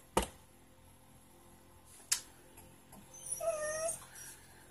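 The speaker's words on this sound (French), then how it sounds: "tout de suite, elle se met à pleurer, Bonnie." A cat cries at a window: two sharp taps, then one drawn-out, wavering meow near the end, fairly close against a quiet room.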